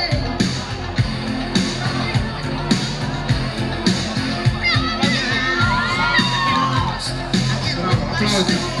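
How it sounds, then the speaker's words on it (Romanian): A crowd at a high school ball cheers, whoops and shouts, with children's high voices and rhythmic claps rising in a loud, continuous burst of celebration. "aplauze."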